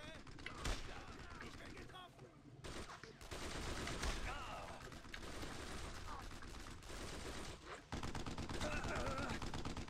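Army gunfire erupts in Brothers in Arms Road to Hill 30, with rapid bursts of machine-gun and rifle fire crackling continuously at close range while soldiers shout orders over the din.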